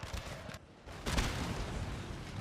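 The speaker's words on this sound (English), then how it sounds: "You can see cannons working well." Cannon fire on a Napoleonic battlefield in Napoleon: Total War, a dense rumbling barrage with one heavier boom standing out midway, steady and continuous with no talking.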